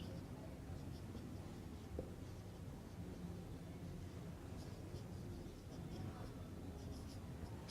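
Writing on a board during a Year 8 maths lesson on distance-time graphs: faint, soft scratchy strokes run steadily over low room hiss, with a slightly sharper tap near the start.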